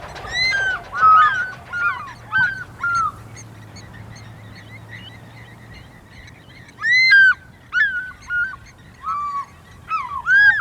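Territorial pair of birds in the Okavango wilds calling loudly and repeatedly at an intruder, bursts of harsh honking cries in clusters with pauses between, close and prominent over a low background rumble.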